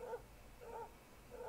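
A dog in the video game Dragon Quest XI gives three short, evenly spaced whimpering yips, faint and thin over a low background hum.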